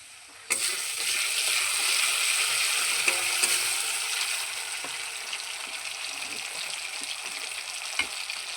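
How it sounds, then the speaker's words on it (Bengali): Onions in a pan sizzle loudly as ground dried red chili paste hits the hot oil, a sudden burst of frying that settles into a steady crackle with occasional stirring. "ভালো করে আমি কষিয়ে নেবো পেঁয়াজটাকে। পেঁয়াজটা আমার হয়ে এসছে হালকা, এবার আমি বেটে রাখা শুকনো লঙ্কা দিয়ে দেবো।"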